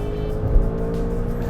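A Maserati Levante Trofeo SUV with a Ferrari-sourced V8 drones at a close, steady pitch under acceleration, a full low engine tone with layered harmonics and no voices.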